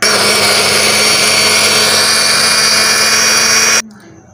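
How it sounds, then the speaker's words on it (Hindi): An electric kitchen grinder runs loud and steady on a cooled homemade ketchup mixture, giving a constant high whirring whine up close. The motor cuts off abruptly near the end. "अब मैं ग्राइंडर में डाल के ये ग्राइंड करने लगी हूँ"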